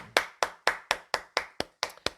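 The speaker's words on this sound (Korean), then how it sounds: "오늘도 우리에게 말씀 주시고 은혜 주신 주님께 우리 감사의 박수 올리겠습니다." Clapping at a Korean church service, heard as nine distinct, sharp claps in an even, steady rhythm, close and fairly loud with short silences between them.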